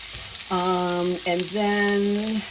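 Vegetables stir-fry in a hot pan with a steady, close sizzle. A loud, sustained humming tone sits over the frying for about two seconds, with a short break in the middle.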